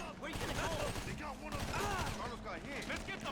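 Gunfire in GTA Online rattles steadily through the clip as rapid, overlapping shots at moderate loudness over a continuous background of game noise.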